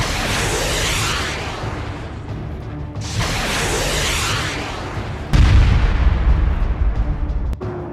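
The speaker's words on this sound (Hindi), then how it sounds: "एक बार फिर लेबनान से खतरनाक रॉकेटों ने इजरायली बेस को धमाकों से हिला डाला।" Rocket explosions at an Israeli airbase struck by heavy Hezbollah rockets: loud rolling blasts with long roaring decay, one after another, then a sharper, heavier boom near the end.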